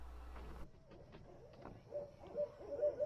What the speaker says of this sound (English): we were visited once again by the owls